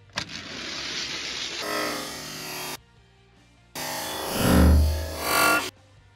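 Toy Liberty Walk GTR and Lamborghini cars race along a track in loud, close bursts of whirring motor noise, two separate runs with a short quiet gap between them.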